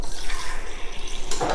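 Water runs and pours into a glass beside a dram of Kavalan whisky, a steady close trickling that swells briefly louder near the end, heard alone without talk.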